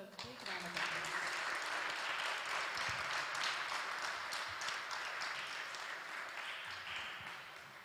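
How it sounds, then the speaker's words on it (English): An audience at a Gita recitation contest gives a contestant a round of applause, steady, moderately distant clapping sustained for several seconds and slowly tapering. "Everybody please give her a big round of applause."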